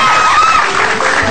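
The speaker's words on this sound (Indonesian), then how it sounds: "Jadi tepuk tangan sekali lagi buat mereka semua" A television talk-show studio audience claps and cheers loudly, a dense wash of applause with scattered whoops, close and continuous throughout.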